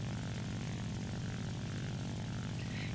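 Steady, loud drone of a propeller aircraft engine in War Thunder as the fighter plane performs a full roll, a continuous low rumble with airy wind noise running unbroken throughout.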